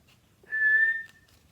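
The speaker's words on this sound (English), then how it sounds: "Stop whistling." A single steady whistled note held for about half a second, clear and close, with quiet background.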